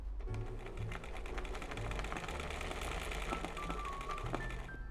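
Sewing machine running steadily in zigzag mode for free-motion embroidery of a tropical bird, a continuous close mechanical whir with rapid needle ticking throughout, no voices.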